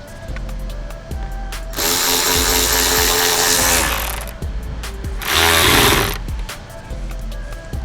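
A power tool whirs in two loud bursts, the first about two seconds long and the second shorter, driving torque screws into a rear fender liner on a Chevrolet Suburban, with clicks and handling noises around them.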